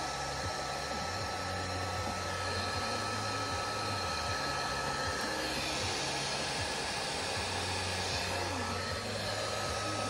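A heat gun set on hot blows a steady, loud airflow hum as it shrinks a heat-shrink sleeve onto a Summit tree stand cable, continuous and uninterrupted with no talking.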